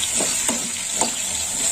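Pointed gourd and potato pieces fry in a pan with a steady sizzling hiss, broken by a few soft stirring scrapes.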